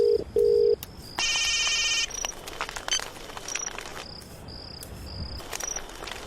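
A telephone rings: a few short beeps, then a brief bright burst of ringing, all set against a steady chirping of crickets in a quiet night-time setting.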